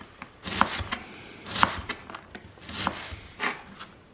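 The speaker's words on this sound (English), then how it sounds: "cut against the grain of what you just diced" A knife chops cabbage on a cutting board in a handful of crisp, evenly spaced strokes, close and fairly quiet, with soft scraping between cuts and no talking.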